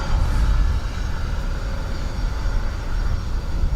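A Ryanair airliner from Stansted approaches Dublin Airport under low cloud, with a continuous heavy, fairly close engine rumble that holds steady throughout and carries a low, rough texture.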